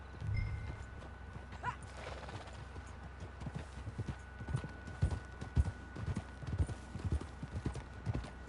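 Steady clip-clop of horse hooves at a walking pace in Red Dead Redemption 2, close and clear, with a brief creak and faint whinny early on.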